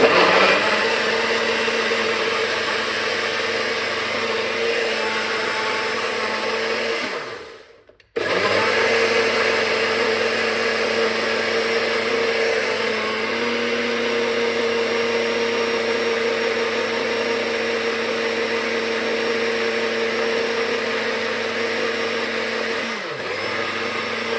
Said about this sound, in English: Let's blend this.